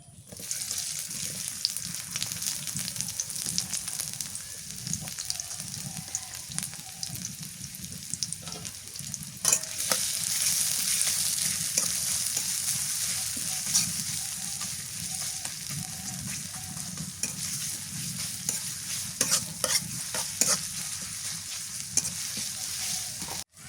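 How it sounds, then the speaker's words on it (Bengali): Onion frying in mustard oil in a wok in a home kitchen, a continuous close sizzle with frequent scraping stirs and a louder surge partway through, no talking. "পেঁয়াজ ভাজা হয়ে গেছে"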